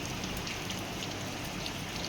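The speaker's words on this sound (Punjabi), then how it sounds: "ਮੀਂਹ ਬਹੁਤ ਜ਼ਿਆਦਾ ਪੈ ਰਿਹਾ ਜੀ ਦੇਖੋ" Heavy rain pours down in a dense, constant hiss, steady and enveloping with no pauses and no voices.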